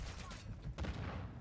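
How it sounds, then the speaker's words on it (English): BAS-P gunfire in Modern Warfare 2, a burst of rapid shots near the start followed by a louder crack and rumbling report, all fairly close and full, with no talking over it. "Alright, BASP, not the gun you want to use if you're trying to get some wallbang kills."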